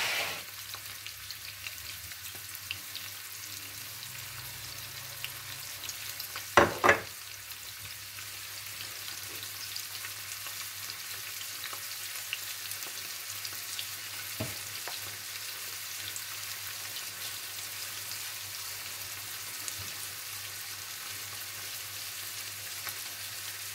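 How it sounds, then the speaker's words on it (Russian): Steady, close sizzling of beef liver frying in a hot pan, a constant crackling hiss with a brief louder clatter partway through. "А здесь печенку."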